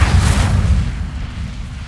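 A fire spell cast in the video game Hogwarts Legacy, a loud low rumbling whoosh and burst that roars at the start and then settles into a steady crackling blaze.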